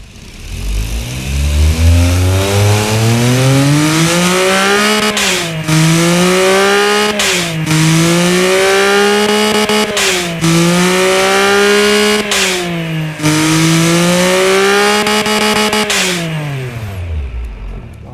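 A freshly built car engine with a cast iron crank runs loud and close, revving up and down repeatedly in smooth rising and falling sweeps, with brief drops between revs.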